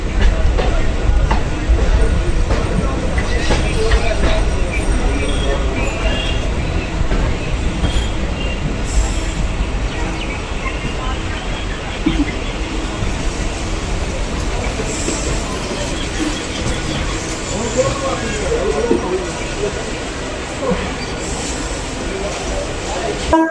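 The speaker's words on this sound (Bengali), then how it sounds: "আমাদের ট্রেন এখন কারশেডের দিকে চলে যাচ্ছে।" A local train runs from Dumdum Cantt toward Barasat in West Bengal, a steady loud rumble of wheels on rails with occasional squeals and clatter throughout.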